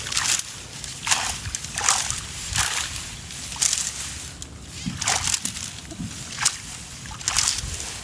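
Fish splash in shallow, nearly dried-up water: a series of sharp, moderately close splashes and sloshes about once a second over a quiet outdoor background.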